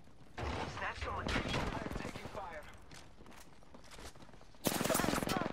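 Gunfire in Apex Legends: bursts of rapid shots under a game character's voice lines, ending in a louder, closer volley of automatic fire.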